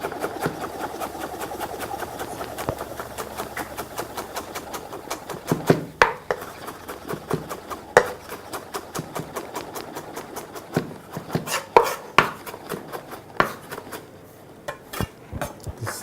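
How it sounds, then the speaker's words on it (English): An onion is chopped with a knife on a board, with rapid, crisp blade taps that start soft and grow into sharper, louder irregular chops. "This is our onion. We also need to chop it."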